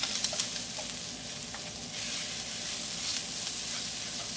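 Mashed potato samosa filling is stirred in a pan over low heat, with a soft, continuous sizzle and faint scraping stirs running throughout.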